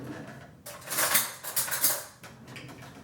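A metal spoon scrapes and clinks against cookware while scooping cooked pasta into a baking dish for baked ziti, several close clatters over about two seconds with no talking.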